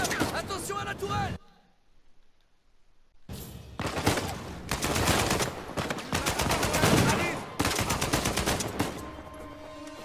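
Turret gunfire from the Uncharted 4 video game, loud rapid bursts of automatic fire repeating across most of the stretch after a short quiet gap, with a voice talking over parts of it.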